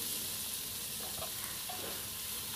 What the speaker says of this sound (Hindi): अब हमारा ऑयल गर्म हो चुका है अब इसमें हम डालेंगे मेथी जो हमने मेथी कट करके रखी है